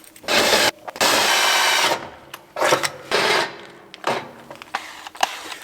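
Power drill boring through steel in several loud, harsh bursts separated by short pauses, close by, with grinding whine and occasional clunks between runs.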